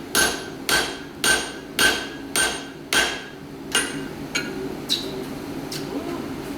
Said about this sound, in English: Putting a few more hammer blows in each time